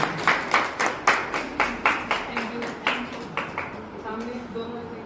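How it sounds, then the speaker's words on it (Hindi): Guests clapping in rhythm at a retirement party, a string of evenly spaced, fairly loud group claps that thin out toward the end under a voice. "तालियां तालियां तालियां।"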